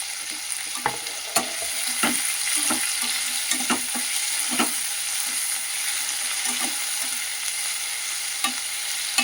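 Tomato, cloves and cardamom sizzle in a pan for a veg curry, a constant close hiss broken by regular scraping stirs and light clinks, with no speech.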